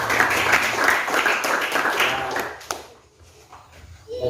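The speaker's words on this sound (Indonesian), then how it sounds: "Ya, berikan tepuk tangan." An audience at a Christian school gathering gives a round of applause while teachers are introduced, brisk clapping for about two and a half seconds that then fades to quiet room sound with a faint voice.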